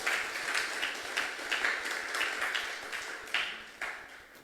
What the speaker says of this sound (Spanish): Si usted lo cree, dele un fuerte aplauso al Señor en el nombre de Jesús.